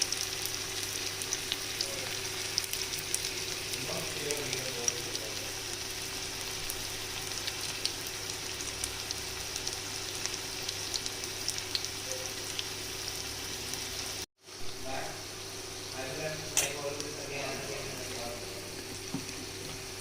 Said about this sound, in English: Now we will have to wait till they are nicely fried.